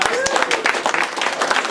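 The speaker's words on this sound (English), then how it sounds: "Let's give him another round of applause." Audience applauding after a particle physics lecture on dark matter at a school event, a steady wash of many hands clapping for under two seconds, with some voices mixed in.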